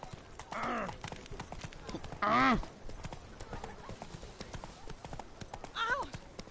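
Horse hooves clip-clopping in The Witcher 3: Blood and Wine, a steady near trot with three loud whinnying snorts over it and someone talking faintly in between.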